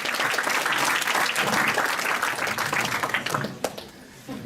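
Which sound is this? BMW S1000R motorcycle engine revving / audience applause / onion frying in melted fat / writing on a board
audience applause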